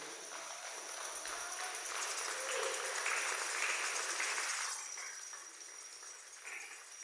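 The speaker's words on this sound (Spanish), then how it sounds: "Denle un aplauso al Señor" Congregation applause at a Spanish-language church service, a steady broadband wash of many hands clapping together for several seconds, swelling in the middle and tapering off toward the end.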